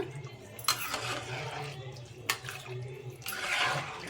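Rice with salt and water gets mixed in a pot, wet swishing and sloshing with a couple of sharper clunks against the pot, close and moderately loud.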